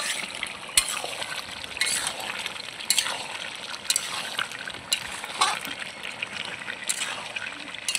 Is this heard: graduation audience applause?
no